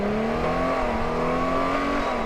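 A 2018 Honda Gold Wing motorcycle accelerating hard in sport mode, a steady loud engine tone rising smoothly in pitch with one brief shift, heard up close with no talk.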